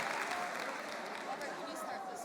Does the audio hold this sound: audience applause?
yes